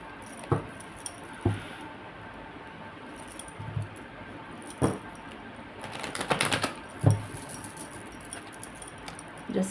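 Tarot cards shuffled by hand make soft, close papery riffles and taps, coming as scattered short bursts with a longer flurry midway, in an otherwise quiet room.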